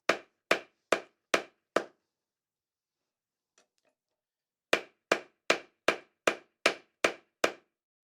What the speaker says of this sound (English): This is an ideal way to forge with spring steel, because even at a forging heat, you will notice that it is a lot tougher to work with